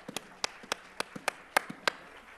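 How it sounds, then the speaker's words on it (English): Another round of applause at an Essex County College Africana Institute event: a quiet, scattered patter of handclaps from a small audience, slightly distant, with no voices. "Let's give her another round of applause."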